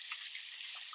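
Rushing water of a waterfall in the film Jurassic Park, a continuous bright splashing wash heard alone at moderate level.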